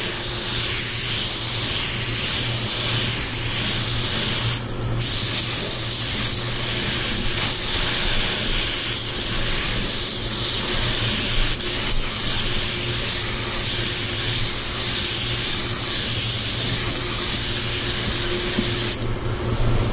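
A steady, continuous hiss of a spray gun laying down black paint on a Range Rover Velar two-tone finish, loud and close, with a brief pause near the start and another near the end.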